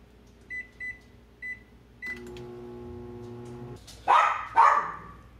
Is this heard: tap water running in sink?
no